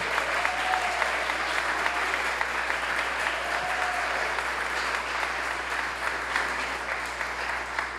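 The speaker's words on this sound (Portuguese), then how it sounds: "Eu queria pedir uma salva de palmas forte." A crowd at a political left-wing panel event applauding steadily, sustained close clapping over a constant low hum, with a faint voice briefly audible.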